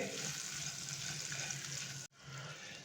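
About half a teaspoon of butter melts and sizzles in a hot pan for a bread snack, a steady soft hiss that cuts out abruptly near the end and then resumes.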